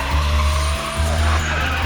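Two RB-powered Nissan drift cars, an S14 and an S15, skid through a battle run, giving a loud sustained tire squeal over a droning engine with a brief dip partway through, close and continuous.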